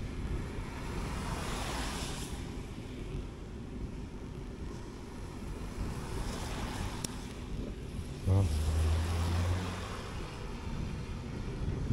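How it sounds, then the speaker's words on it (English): Steady wind roars and buffets outdoors, a broad rushing noise with a brief low thump partway through, no talking. "It's pretty windy."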